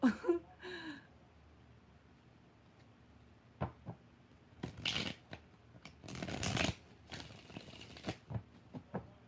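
Tarot cards being shuffled in intermittent riffling bursts, close and crisp, separated by quiet pauses, with a brief breathy vocal sound at the start.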